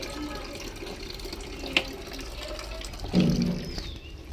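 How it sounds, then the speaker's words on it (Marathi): A tap left running in a house pours water in a faint, steady rush, broken by a couple of brief knocks and splashes nearby. "पाणी नळाला तिथं चालू आहे"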